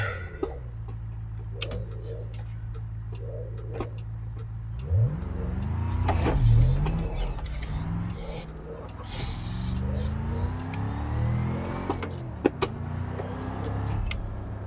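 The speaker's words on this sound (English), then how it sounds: "Driving down the road in my FATT." A FATT car in the BeamNG.drive game cruising down a road, its mid-pitched engine humming steadily and then rising and falling as it revs. Clicks and short bangs sound over it, and a voice talks at points.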